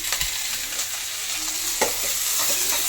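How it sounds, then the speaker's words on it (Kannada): Cashews, tomato and fennel seeds frying together in a pan for paneer butter masala, a close, continuous sizzle with the scrape and clatter of a spoon stirring through the mix. "ಈಗ ಸ್ವಲ್ಪ ಇದು ನೀಟಾಗಿ ಫ್ರೈ ಮಾಡಿಕೊಂಡು"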